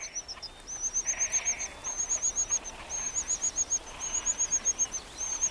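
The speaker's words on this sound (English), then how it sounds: "The little reed warblers know no limits." Reed warblers give rapid, high-pitched chattering call bursts, repeated in quick series separated by short pauses, fairly faint against a quiet outdoor background.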